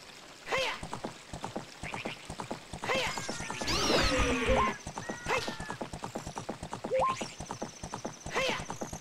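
Horse in Zelda: Ocarina of Time trotting with steady clip-clop hoofbeats, loud and close, plus a whinny in the middle, with bright game effect tones layered over it.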